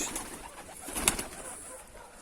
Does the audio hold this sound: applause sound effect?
no